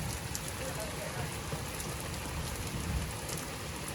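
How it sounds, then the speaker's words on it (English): Heavy rain falling in England, a steady broadband hiss of drops on surfaces that holds evenly throughout with no clear pauses; faint voices may sit under it. "Seriously, look at this rain we've been having."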